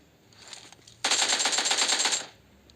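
A short burst of automatic gunfire comes from behind the player in PUBG Mobile, a quick rapid string of shots lasting just over a second after faint earlier pops.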